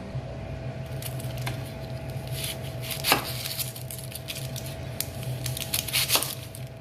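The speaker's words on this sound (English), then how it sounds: "First, we're going to chop up the onion." An onion being chopped on a board for a home spaghetti dish, with several distinct knife thuds spaced irregularly over a steady low kitchen hum, close and fairly quiet.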